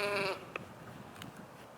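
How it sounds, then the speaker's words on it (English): A sheep at a farm gives one short, fairly clear bleat at the start, followed by quiet outdoor ambience with faint scattered clicks. "One of the sheep"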